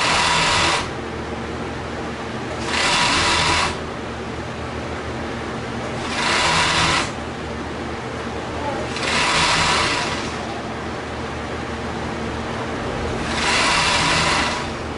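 Overlock sewing machine stitching around the edge of a pareo, running in four separate bursts of roughly a second each, with a low background hum and pauses between runs.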